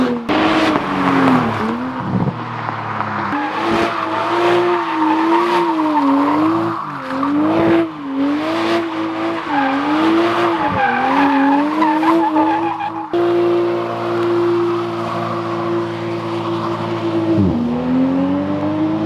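A 2020 Toyota Supra with a dropped exhaust, catalytic converters still fitted, drives hard with loud, wavering engine drone, tire squeal and skidding, shifting pitch through revs before a steadier held tone near the end.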